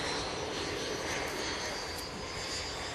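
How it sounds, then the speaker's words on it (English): Aircraft jet engines whine steadily at takeoff during a royal flight bound for Aberdeen, a loud continuous broadband roar with a high whine, filling the whole stretch without a break. "There's the whine of the engines."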